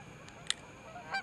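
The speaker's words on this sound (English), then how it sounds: "Here come more geese. This is the place to be if you're a goose. Wow, listen to them." Geese by a lake dock give a few short nasal honks, one sharp and close with others fainter around it, over a quiet outdoor background.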